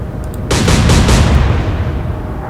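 Ship guns in the naval game Atlantic Fleet fire at the German destroyer Z-32, a sudden loud blast followed by a sustained rumbling roll that slowly fades.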